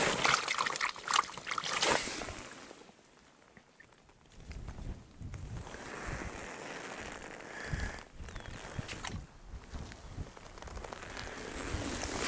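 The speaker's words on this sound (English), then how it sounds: "Can actually rinse them off down here a little bit." Agate stones rinsed in a Montana river, with steady trickling and sloshing water close by, a brief splashy burst early on, and continuous flowing water throughout.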